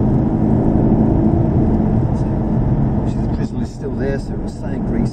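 An Aston Martin V8 Vantage drives a lap of the Brands Hatch circuit, its engine droning loudly and continuously from inside the cabin while voices talk over it in the latter half.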